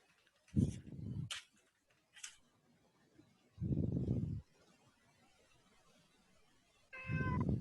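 A cat meows several times, low drawn-out cries close to the microphone with quiet gaps between, plus a faint tick or two in the background.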